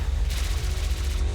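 Rapid gunfire from the video game Hyper Light Drifter sounds as a dense, loud burst of repeated shots filling the short moment, with no talk.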